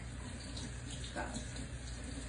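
Cold water running from a tap into a colander while making butter at home: a steady, close rushing gush with a brief louder splash midway, and a voice speaks briefly over it.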